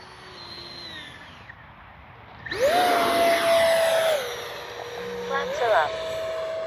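A Freewing F9F-5 Panther 70mm electric ducted-fan RC jet on landing approach gives a steady whine that swells and rises in pitch as the throttle comes up, with a sustained tone lingering afterward, heard from a moderate distance over outdoor background noise.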